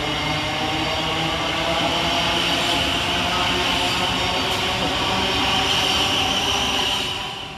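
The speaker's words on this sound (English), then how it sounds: "departing in the opposite direction is 700-030, working the 1634 Govia Thameslink service of Raynham to Luton" A Class 700 Govia Thameslink electric train departs Gillingham station in Kent. It makes a steady, loud, continuous rumble with a motor whine that holds for several seconds and then starts to fade at the end.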